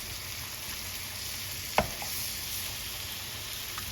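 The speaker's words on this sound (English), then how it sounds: "Both eggs in. And we're going to scramble this in the pan." Eggs scramble and fry in a pan with a low, even sizzle, broken once by a sharp clink of a utensil partway through. It is quiet and close, with no speech.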